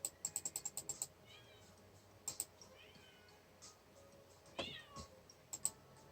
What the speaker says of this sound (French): Et quoi ça, un chaton?